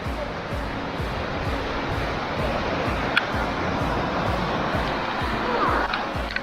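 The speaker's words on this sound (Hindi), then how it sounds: "ये देखिए पूरा पानी, नदी आती है।" A mountain river rushing along the trail to Kheerganga near Kasol, a steady loud broadband roar of flowing water with no voices over it.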